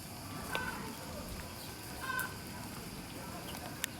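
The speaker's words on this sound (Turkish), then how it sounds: "Bunlar çok ilginç tavuklar." Faint clucking from chickens at a zoo scattered through steady background noise, a few soft calls and a brief sharp click, heard from a distance.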